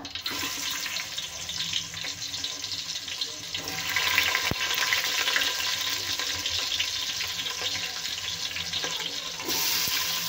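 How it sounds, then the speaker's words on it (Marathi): Chopped onion hits hot oil in a pot for a chicken gravy, setting off a loud, steady sizzle and crackle that runs unbroken for several seconds, with no talking. "तेल आता गरम झालं आहे. तर आपण याच्यामध्ये सोडूया आता कांदा."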